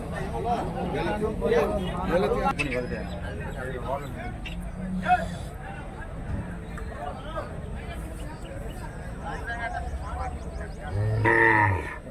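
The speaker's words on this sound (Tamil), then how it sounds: "சரி, இதுங்களாம் வந்து வண்டி மாடுங்க" Cattle at a large open-air Friday cow market in Tamil Nadu, with draught bullocks among them, low around the pens with a loud moo near the end. Someone talks over the scene and there is general crowd noise.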